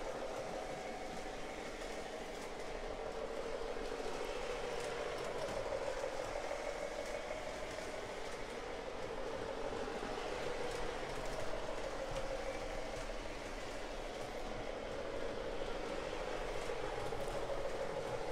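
An O-gauge model Galloping Goose train runs steadily around a bend, a continuous low rolling rumble and motor drone at moderate level with no talking.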